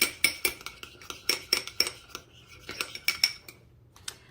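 A utensil clinks and scrapes against a bowl as sweet Vidalia onion dressing is stirred into a sandwich filling, making a quick, irregular run of close, bright taps that taper off into quiet.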